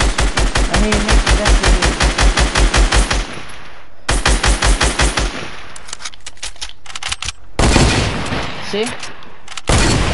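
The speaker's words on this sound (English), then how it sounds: "Let me shoot out." Video game gunfire rings out in loud, rapid automatic bursts. Long rhythmic strings of shots are split by short gaps, and a player talks briefly between the bursts.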